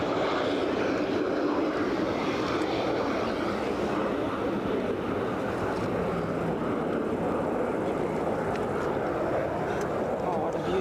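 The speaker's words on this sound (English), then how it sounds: "Inbound from Bristol, a Pilatus PC-12" A Pilatus PC-12 single-engine turboprop inbound from Bristol passes at Brussels Zaventem airport, a steady broad propeller drone holding for about eleven seconds while people talk over it.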